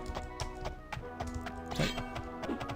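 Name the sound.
horse hooves clip-clopping in Daggerfall video game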